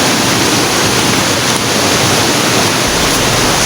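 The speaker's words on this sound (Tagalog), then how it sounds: "may sapa dito" A stream rushes loudly and continuously, its broad steady roar of flowing water filling the scene without pause.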